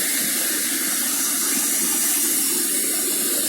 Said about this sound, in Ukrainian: Красивий водоспад.